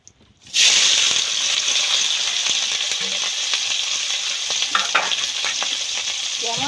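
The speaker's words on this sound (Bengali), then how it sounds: "তেল তো গরম হয়ে গেছে এবার ম্যারিনেট করা চিংড়িটা তেলের মধ্যে উঠিয়ে দেবো" Marinated prawns hit hot oil with a sudden loud burst of sizzling that settles into a steady, close crackling fry, with occasional stirring clinks and no talk.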